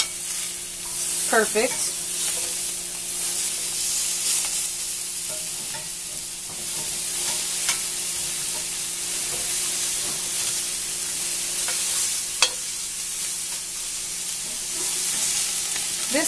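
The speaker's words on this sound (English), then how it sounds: "So now it's time to flip the meat. You see it's got a nice sear there." Meat for chopped BBQ sandwiches sears in a hot pan after being flipped, a loud, steady sizzle and hiss with occasional sharper spits and pops, and a voice speaks briefly.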